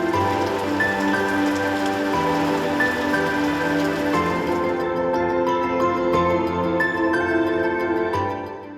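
Steady rain at Itatiaia National Park, Brazil, a dense, loud hiss of drops on surfaces that carries on unbroken and thins slightly toward the end, with no voices.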